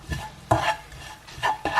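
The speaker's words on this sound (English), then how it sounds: "Just going to give those a stir, just so that the spices get a bit toasted" A spoon stirs onions and spices in a pan, producing a few close scraping strokes with light sizzling in between.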